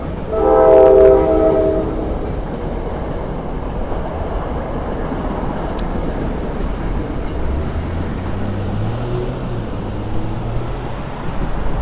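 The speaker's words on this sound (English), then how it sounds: "Oh, check that out, the train." A train passes at a distance, its horn blaring loudly in long tones at the start, then a steady rumbling roll of rail cars with a lower horn note near the end; no talking.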